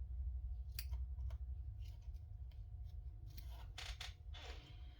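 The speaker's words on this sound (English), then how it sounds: "I think I've got glue on my scissors now, so I have to clean them." Scissors being wiped clean of glue during a felt sewing session, heard as a few scattered soft metallic clicks and scrapes over a low steady hum, with no talking.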